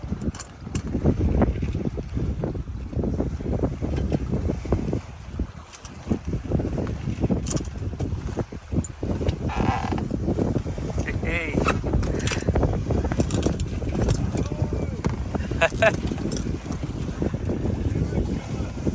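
A sailboat runs under full sail off Hartlepool, with strong wind gusting and buffeting close against the microphone over a constant low rush of water along the hull.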